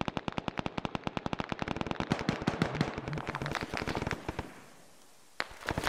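Rapid gunfire in the military game Arma: dense, evenly spaced automatic bursts for about four seconds, then a short lull before another sharp shot.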